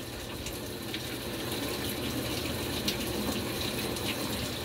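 Water gushes steadily into a washing machine as it fills for a rinse cycle, a continuous broad rush heard up close with no talking.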